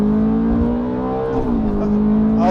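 Ferrari F430 Berlinetta V8 engine revving, a loud, steady high-pitched howl held close by, rising and dipping slightly in pitch, with no talk over it.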